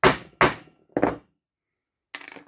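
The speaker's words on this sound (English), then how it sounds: "Maybe you don't have to hammer 2 times" A hammer strikes a Husqvarna Automower wheel motor three times in quick succession with sharp, close thuds, followed after a pause by a softer, brief metallic knock.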